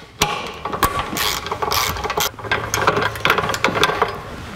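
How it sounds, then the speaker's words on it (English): A wrench clicks and scrapes as bolts are removed from a Honda EU3000iS generator, producing irregular close mechanical ratcheting and metallic taps with no speech. "Then we can get our wrench in here And now we should be able to get the other ones out."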